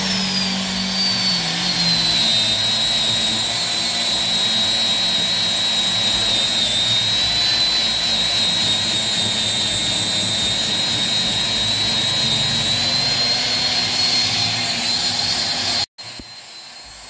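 A steady, loud mechanical whine with a high sustained tone runs continuously as a buffing machine with a Scotch-Brite-like grey buffing pad polishes stainless steel, cutting off abruptly near the end.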